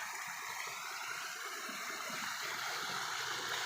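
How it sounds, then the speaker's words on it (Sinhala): A mountain stream in Kitulgala flows along its upper reaches with a steady, close, full rushing wash that stays even throughout, with no voices. "මේ තියෙන්නේ ඇලේ තව උඩහ කොටස."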